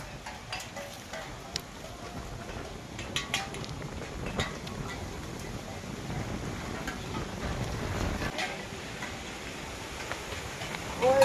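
Steady wind buffets the microphone outdoors on a cold day on the way to a dam, a continuous broadband rush with gusts and faint clatter, loud and close throughout.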